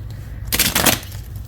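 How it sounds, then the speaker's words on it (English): Tarot cards are shuffled with a single quick riffle, a crisp burst of fluttering card snaps that lasts about half a second and rises above a quiet low hum. "Oh, I'm shuffling that way."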